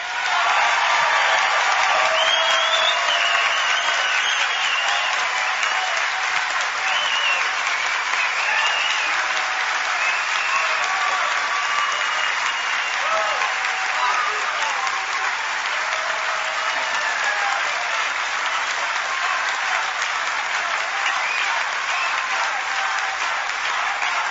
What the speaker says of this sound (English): That cheer